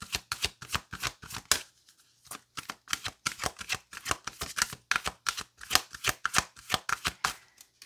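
Oracle cards being shuffled in a steady run of crisp riffling flutters, close and fairly quiet, with brief pauses between bursts and no talking.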